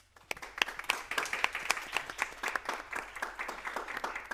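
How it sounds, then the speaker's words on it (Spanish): Audience applause at a round-table event of a Spanish foundation on youth, fake news and institutional trust, starting abruptly and continuing as brisk, close individual claps in a small crowd, without talk. "un fuerte aplauso"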